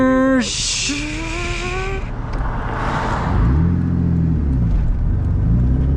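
A turbocharged manual Lexus SC300 accelerates from inside the cabin, engine pitch climbing steeply through a gear, a brief break for the shift, then a loud steady low rumble building again as speed rises.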